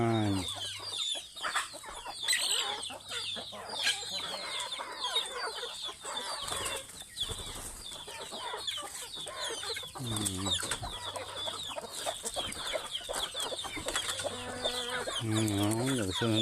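Chickens cluck and squawk close by in a busy, overlapping chorus, with occasional louder calls.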